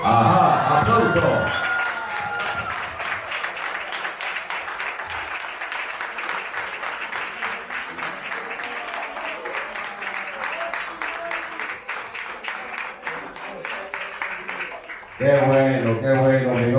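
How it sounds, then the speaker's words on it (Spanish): A studio audience applauds at length after a marriage proposal on a television talk show, sustained clapping that runs for about thirteen seconds before a voice comes back in. "¡Aplauso!"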